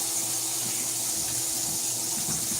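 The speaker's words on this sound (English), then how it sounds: "just toss the green beans right into the pan. You can hear the sizzle." Green beans tossed into a hot pan with bacon, giving a dense, loud, steady sizzling hiss that fills the whole short moment, close up with no talking.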